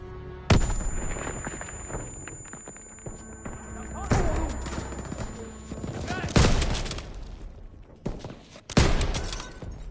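In the Call of Duty WWII campaign, a grenade blast and heavy gunfire erupt in several loud booming bursts amid sustained battle noise, with shouting voices mixed in.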